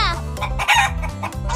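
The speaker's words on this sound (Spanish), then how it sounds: "¡Es una gallina!" A cartoon hen clucks and crows in a loud, close, tonal call with several rising and falling pulses, heard alone without talk.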